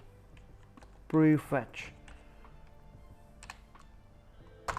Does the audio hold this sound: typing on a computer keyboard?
yes